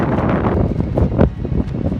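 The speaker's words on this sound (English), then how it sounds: "it's super windy outside" Strong wind blows outside near a camp in Auyuittuq National Park on Baffin Island, a loud, close, rumbling gust buffeting the microphone with no voices.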